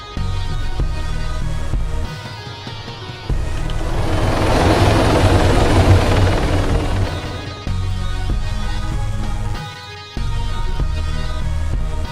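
A helicopter in the video game Arma 3 on the Tanoa Life server hums with a steady rotor and engine drone, swelling louder for a few seconds before settling back, with short dips in the sound.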